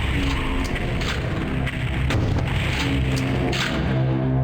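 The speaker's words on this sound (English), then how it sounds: "Let's use some rockets." Rocket launcher fire and explosions in PlayStation Doom, with repeated loud booming blasts stacked over a constant roar of game noise and a low rumble.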